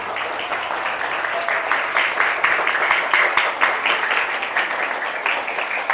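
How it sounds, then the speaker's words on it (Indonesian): A crowd claps at a Maulid Nabi religious gathering held at an Islamic learning center, a dense, lively round of applause that swells and pulses steadily throughout, fairly close. "Tepuk tangan."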